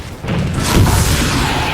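An in-game explosion in Halo 4 erupts as a loud, deep, rumbling boom that fills the whole moment and then holds as a sustained roar.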